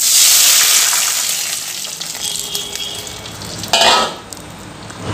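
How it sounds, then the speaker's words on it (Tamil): Hot oil tempering for idli sambar sizzles loudly, then settles; reserved cooking water is poured in with a brief splashing hiss before the frying quiets again. "இப்போ நம்ம வேக வைக்கும் போது எடுத்துருந்த தண்ணியை இப்போ உள்ளே சேர்த்துக்கலாம்"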